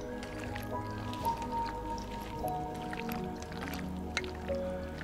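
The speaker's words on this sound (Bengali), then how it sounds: "এখন এটাকে পুরো ভালো করে ম্যারিনেট করে নেব।" Chicken being mixed by hand in marinade for Bengali resmi chicken: soft wet squishes and drips up close, repeated irregularly over a low kitchen background hum.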